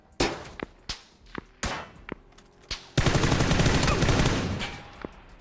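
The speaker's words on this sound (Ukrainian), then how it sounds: "ти по мені стріляєш" PUBG gunfire: several sharp single shots spaced apart, then a dense, continuous burst of automatic fire that rattles loudly before tapering off.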